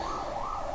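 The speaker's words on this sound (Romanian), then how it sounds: "dacă se poate să închidem luminatorul, să nu mai auzim ambulanța" An ambulance siren wails outside, its tone rising and falling continuously in a loud, steady sweep with no speech over it.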